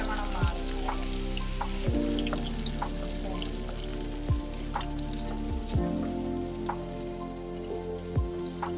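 Green chillies frying in hot oil in a pan for a Kerala crab roast, giving a steady close sizzle broken by occasional sharp crackles and pops, with no voices.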